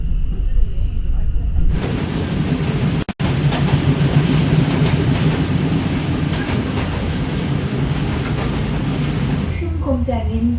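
A pink sightseeing train runs on rails through a scenic canyon stretch, a steady loud rumble with rhythmic clickety-clack of wheels over the joints that continues for most of the stretch, then fades out.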